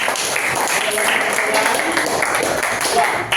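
Junior high school students in a classroom in Kupang clap for a group of classmates, a brief, steady patter of many hands mixed with talking in the room.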